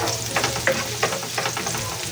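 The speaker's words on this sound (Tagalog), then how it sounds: "Igigisan po natin yung ating bawang." Chopped garlic sautés in hot frying oil, a steady close sizzle broken by light stirring scrapes.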